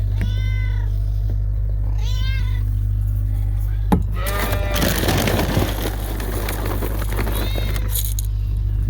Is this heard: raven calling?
no